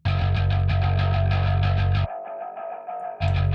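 Heavily distorted electric guitar run through a distortion plugin and amp with EQ, for a metalcore mix. It plays thick, loud sustained chords with a brief thinner passage in the middle before the full chug returns.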